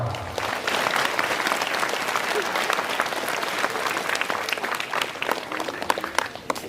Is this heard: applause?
yes